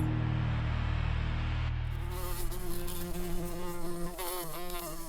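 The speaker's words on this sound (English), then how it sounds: "Listen to the buzzing of a bee." A buzzing insect, a bee, drones steadily and close for several seconds, its pitch wavering as it moves, with a low hum underneath.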